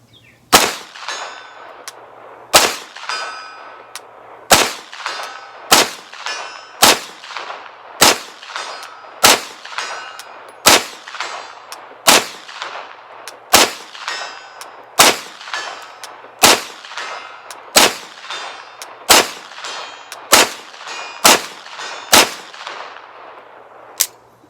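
Shots from a PTR 9KT MP5K clone at a range, aimed at 100-yard targets: about twenty loud, sharp reports fired one at a time at a steady, unhurried pace, each followed by a ringing metallic clang and brief decay.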